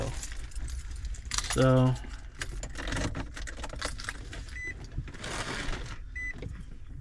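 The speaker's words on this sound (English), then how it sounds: "Let's get the keys, turn it to the on position" Car keys jangle briefly in an Infiniti G35 from the 2003-2007 model years while the ignition is turned to the on position, a short bright metallic rattle over cabin background noise, with a brief spoken word nearby.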